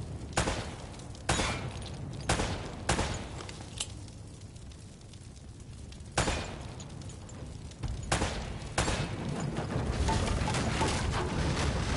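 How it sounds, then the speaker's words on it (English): Gunfire from Uncharted: Drake's Fortune, aimed at hanging lamps: a string of sharp, loud shots at irregular intervals, some close together, with booming game ambience between them. "Try shooting one of those lamps down."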